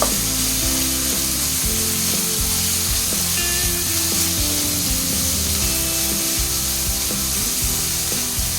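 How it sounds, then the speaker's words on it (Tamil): Onions frying in a pan for tomato kulambu, a steady close sizzle with frequent scraping and stirring knocks running throughout. "வெங்காயம் வணங்கி இருக்குங்க"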